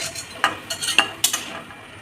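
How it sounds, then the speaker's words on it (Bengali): Egg and potato pakoras sizzle softly in frying oil while utensils scrape and clink against the pan in a handful of sharp, irregular strokes. "এইভাবে পকোড়াগুলো আমি এক এক করে সব ভেজে নেব"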